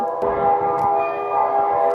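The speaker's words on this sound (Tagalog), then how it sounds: "It's the big bell." A big church bell rings with a steady, sustained metallic hum and overtones, loud and near, continuing without pause and with no voices on top.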